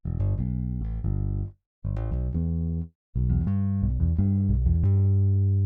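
An electric bass virtual instrument on the neck pickup plays clean, sustained notes in three short phrases separated by brief silences.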